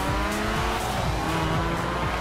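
A widebody Ford Focus RS accelerates hard in the Forza Horizon 4 racing game, its loud engine roaring steadily with squealing tires throughout.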